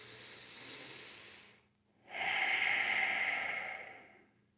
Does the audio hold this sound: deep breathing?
yes